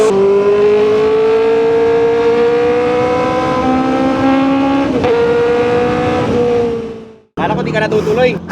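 A Kove 450RR inline-four sportbike engine revs hard while being ridden, a sustained, rising high-pitched wail that climbs through the revs for several seconds, then cuts off abruptly before a short burst of rough wind and road noise.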